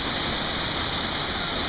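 Nauyaca waterfall in Costa Rica roars as a continuous, loud rush of falling water, a steady hiss with no breaks and no voices audible over it.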